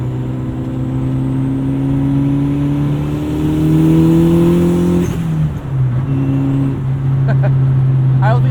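A 2005 VW Jetta GLI with a 1.8-liter turbo engine on a test drive, steady loud engine drone rising in pitch through a gear, dipping at a shift, then pulling again from inside the cabin, with someone talking over it.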